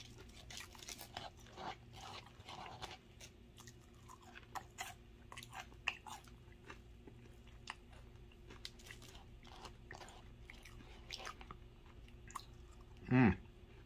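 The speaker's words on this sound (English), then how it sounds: "That's how you eat buffalo fish. Slowly, methodically." Buffalo fish being eaten slowly, with soft close-up chewing and biting sounds spread through the stretch, ending in a louder burst near the end.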